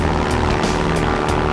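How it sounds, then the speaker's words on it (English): A Canadair CL-215 water bomber aircraft drones loudly and continuously at close range, its propellers giving a steady throbbing hum with regular pulsing beats. "the CL-215 is able to pick up water from a source as shallow as 2 meters"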